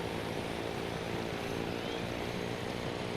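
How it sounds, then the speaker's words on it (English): A mini helicopter starting up in DayZ on the Isla Duala map, a dense, constant rotor and engine drone that fills the clip without letting up. "It's actually a mini helicopter."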